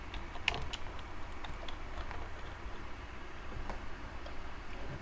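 Computer keyboard typing while designing a flyer in Photoshop, heard as a quick run of light, faint clicks over a low steady background hiss.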